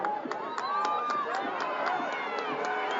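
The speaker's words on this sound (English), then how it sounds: "So now the Menominee Maroon fans again into this one, cheering on their team" Menominee Maroons fans cheer in the stands during a Menominee vs Grand Rapids football game: a steady, fairly distant crowd roar with scattered sharp claps and shouts, and voices mixed through it.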